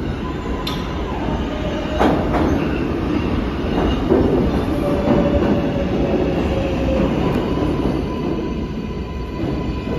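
A New York subway train idles at the Lexington Avenue uptown platform, giving a steady loud rumble with occasional clanks and a faint high squeal, and no voices.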